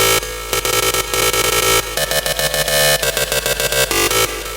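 A dense, buzzy electronic synth lead recreating a famous trance sound plays a fast chopped melody over a steady bass drone, loud and continuous with rhythmic gated pulses.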